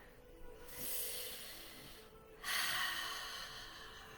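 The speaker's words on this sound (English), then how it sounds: "So if you'd like to just take a couple of deep breaths in." Two deep breaths drawn in during a reiki session, each a soft, airy inhale lasting over a second, close and fairly quiet, with a short pause between them.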